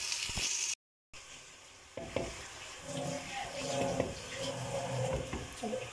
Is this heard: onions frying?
yes